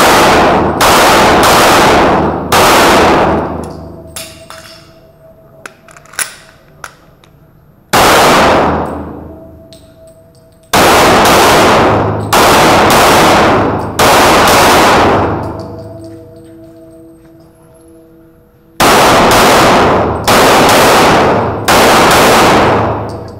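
Rapid strings of gunfire ring out during a Halloween 3-gun shooting competition stage, each volley of loud, close shots mixed with metallic clangs of hit steel targets, separated by short quiet pauses.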